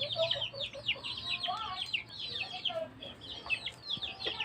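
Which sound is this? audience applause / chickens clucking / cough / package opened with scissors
chickens clucking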